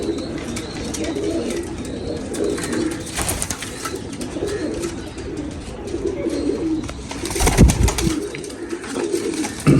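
Pigeons coo steadily nearby, low throaty calls repeating over a constant outdoor hum, with a brief flutter near the end.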